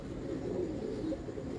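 A red-colored pigeon coos softly up close, a low throaty burbling that rolls on for a moment, with no voices over it.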